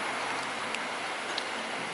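Rain falling steadily at a petrol station in Thailand, a dense even hiss with a few faint drip taps, no voices.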